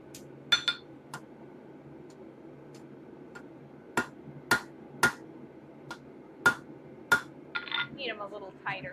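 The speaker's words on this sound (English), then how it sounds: "I think we're going to start by hammering them a little bit more closed." A hammer strikes rivets on hand-forged wolf jaw tongs, about ten sharp metallic clinks at irregular intervals with quiet pauses between them, close and bright, and a brief voice near the end.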